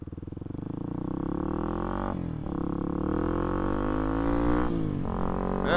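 A Kawasaki KLX250S motorcycle engine drones steadily under load while riding, rising in pitch as it accelerates, with two brief dips around gear shifts, loud and close throughout.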